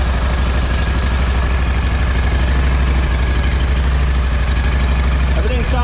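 An engine runs steadily during break-in, a loud, even low rumble with rapid rhythmic pulsing throughout and no clear change in pace.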